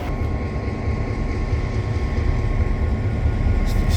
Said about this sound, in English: Alright, you see the choo-choo train in this section here.